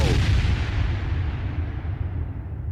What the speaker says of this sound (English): The song ended with that explosion